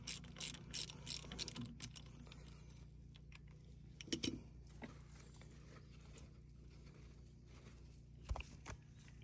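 A hand ratchet clicks in short bursts while loosening a fill plug on the planetary gear hub of a John Deere 333G compact track loader, with a few close metallic clinks and pauses between.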